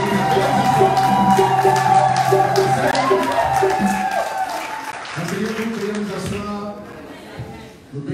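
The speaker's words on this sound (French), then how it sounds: "Est-ce qu'on peut acclamer le Dieu d'Israël?" Church congregation applauding and cheering God, with clapping, shouts and whoops blending into a loud sustained swell that tapers off near the end, with music and voices mixed in.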